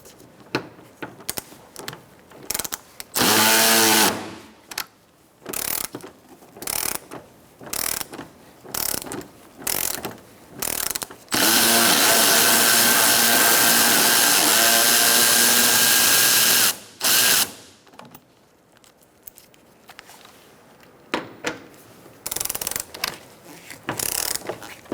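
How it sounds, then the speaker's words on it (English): 10mm socket on a ratchet removing bolts from a 2014-2019 Kia Soul 1.6L L4 during cooling fan assembly replacement: close, loud bursts of rapid ratcheting clicks, some brief, with one long sustained run. "Use a 10mm socket and remove this bolt and also the one on the other side."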